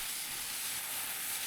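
A drywall texture sprayer pushes a constant, airy hiss through its attached hose, a steady bright rush of blowing air with no pauses, fairly close and alone.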